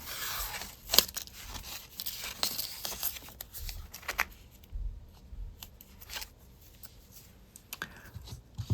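Paper being torn by hand for a craft project in short rustling rips and crinkles, close and fairly quiet, with handling noises between tears.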